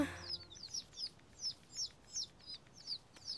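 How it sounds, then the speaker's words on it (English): Cartoon ducklings in a Peter Rabbit Easter special quack in a steady series of about nine high, squeaky peeps, evenly spaced and clear against a quiet background. "Nice quacking, Benjamin."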